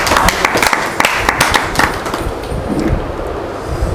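A literary gathering audience claps for a poet, dense scattered handclaps fading gradually over several seconds.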